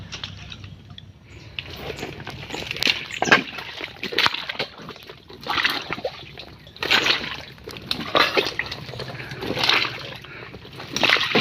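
Water sloshing and splashing at a fishing spot for crabs, irregular bursts of movement through the water, fairly close, with rustling and handling noises between them.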